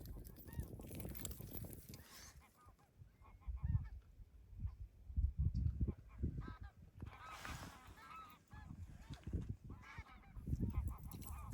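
Flock of geese honking repeatedly as they arrive or depart over an off-grid beach, calls rising and falling in bursts of varying loudness, some nearer and some farther, with wind and outdoor ambience underneath.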